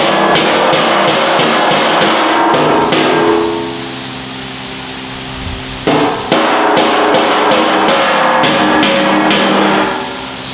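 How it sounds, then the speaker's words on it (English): Rapid, steady tapping from a soft hammer on metal, close and loud, pausing briefly in the middle before the quick strikes resume. "I'm using the soft hammer to pop it up"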